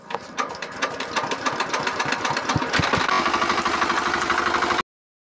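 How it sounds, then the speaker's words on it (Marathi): A pressure washer engine, brought beside a water tank to wash a tractor, starts up and runs with a steady, rapid mechanical chatter. It sounds close and loud, then cuts off abruptly. "टाकीत नळी टाकू आणि चालू करू मग मशीन"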